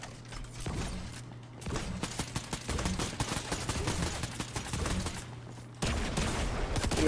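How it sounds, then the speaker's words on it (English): Rapid bursts of video-game gunfire and explosive thuds from a grenade blast, a dense crackling fusillade that drops out briefly and then resumes loud and close, with no talk over it. "I threw a grenade! Oh, I threw another one!"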